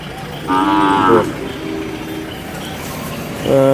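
A pregnant Khillar cow in her ninth month, at a bullock market, gives two loud, drawn-out moos, the second cut off at the end, with crowd murmur and faint distant talk in between.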